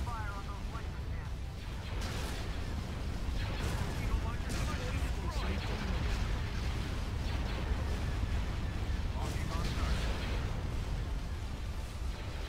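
Space battle weapons fire in Star Wars: Empire at War, with dense, continuous blasts and bursts layered over rumbling combat noise, steady and loud throughout.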